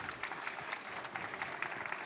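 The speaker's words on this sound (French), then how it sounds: "Eh bien, on peut vous applaudir. Bravo." An audience applauds after a French-language conference talk on variable-length instruction sets, a steady patter of many hands clapping, moderate in level and continuing throughout.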